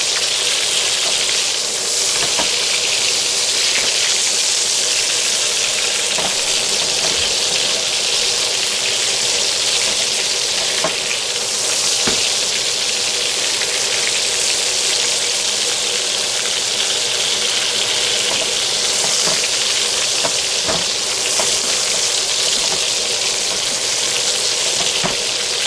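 Hamburgers for a French-style dish fry in a pan with a steady, loud, crackling sizzle that carries on without a break, and small pops and spits come through at irregular moments.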